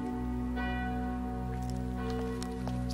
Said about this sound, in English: It's the passing bell.